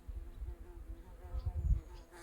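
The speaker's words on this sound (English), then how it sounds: "Okay, we have a bee." A bee buzzes faint and close outdoors, a low droning hum that wavers and swells briefly before fading, with no talking over it.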